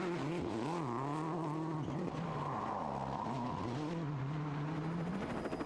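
A Peugeot WRC rally car tears through a stage of Rally Turkey, the engine rising and falling as it shifts through gears with tire scrabble on gravel, heard fairly close and without commentary.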